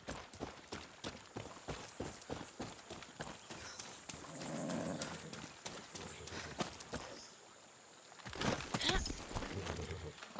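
A horse gallops in Far Cry 6, its hoofbeats a quick, steady clip-clop near at hand, with a rising whoosh and a sharp burst of noise toward the end, all under a speaking voice.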